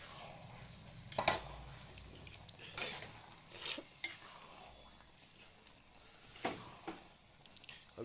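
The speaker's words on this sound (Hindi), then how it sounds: "तो चलिए ड्राई फ्रूट्स चले गए, अब इसे मिक्स कर देते हैं।" Carrot halwa with cashews and raisins being stirred in a pan, a few scraping spoon strokes over a soft steady background, with a faint whisper-like murmur.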